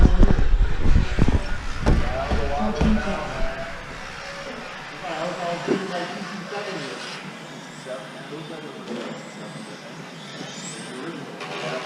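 A Tamiya F103GT radio-controlled touring car drives around, its electric motor giving a thin, wavering high whine that rises and falls under loud, close voices talking throughout.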